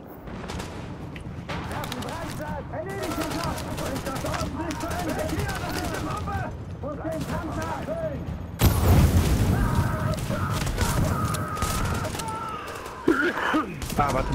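Enemy gunfire in the video game The Division, with repeated shots and booms over a noisy, continuous battle bed and a sharper burst partway through, while a player talks over it.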